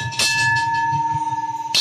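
A ritual bell struck during a Vietnamese offering ceremony rings out with a bright sustained tone, one strike decaying then a second strike at the end, close and clear.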